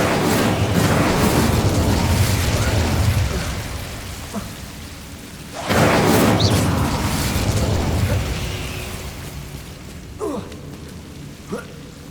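Incendio fire spell in Hogwarts Legacy, two loud roaring blasts that each swell and fade, set against a rushing rain-like background with a few sharp pops.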